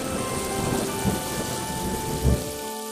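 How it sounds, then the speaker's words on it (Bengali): Steady rain pours down during a thunderstorm, with low thunder rumbles breaking through about a third of the way in and again near the end, in an animated cartoon scene. "বাইরে যেভাবে বৃষ্টি হচ্ছে"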